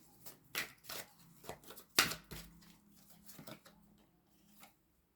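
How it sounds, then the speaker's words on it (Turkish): Tarot cards being shuffled by hand, a string of quiet, close riffling and slapping bursts with short pauses between, no talk. "Arkadaşlar kart çok geldi. Bu yüzden de karıştıracağım."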